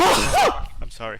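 A single sharp human sneeze bursts out close and loud at the start, then a person speaks briefly afterward.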